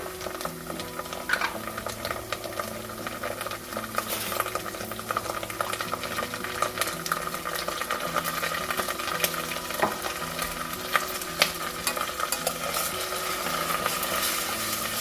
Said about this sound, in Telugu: ఈ జింజర్ గార్లిక్ పేస్ట్ ఈ పచ్చిదనం పోయేంత వరకు ఫ్రై చేసుకోండి